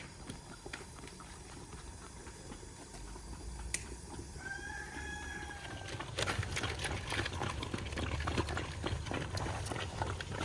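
Chickens and young chicks cluck and cheep in a yard, soft and somewhat distant over a steady background hum, with a brief crowing-like call partway through and no talking.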